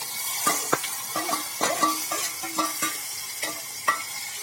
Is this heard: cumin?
yes